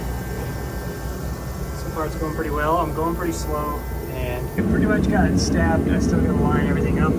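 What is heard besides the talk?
space heater running in a garage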